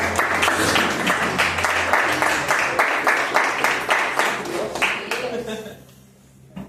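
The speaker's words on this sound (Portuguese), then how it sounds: "Aplauda o Senhor Jesus." Crowd applause with rhythmic clapping and voices mixed in, loud and sustained, fading out near the end, at a Wednesday church service.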